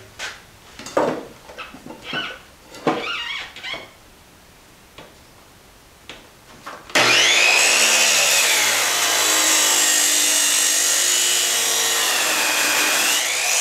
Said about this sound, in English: You ever cut metal in a wood shop?